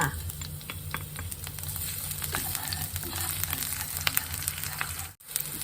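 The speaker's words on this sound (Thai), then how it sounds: "อันนี้ก็จะเป็นพริกกับกระเทียมนะคะ ใส่ลงไปผัดเลยค่ะ" Chili and garlic stir-fried in hot oil for a minced-pork basil dish crackle and sizzle loudly and evenly, with scattered pops and stirring scrapes and a brief drop-out near the end.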